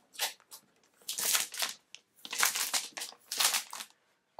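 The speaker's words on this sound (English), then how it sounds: "we have the plastic film which covers the front of the iMac" Protective plastic film peeled off the front screen of an Apple iMac with Retina 5K display, several crinkling, crackling bursts of tearing plastic separated by short silences, close and clear with no talking.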